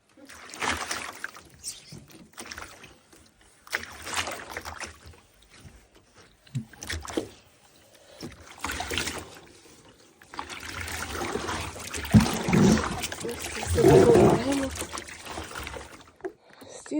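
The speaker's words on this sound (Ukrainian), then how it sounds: "І звичайною тряпочкою промиваємо стінки спочатку, потім шланга будемо поливати." A cloth wipes water over the inner walls of an emptied home hot tub in intermittent wet scrubbing and sloshing bursts, close and moderately loud, with a voice speaking partway through.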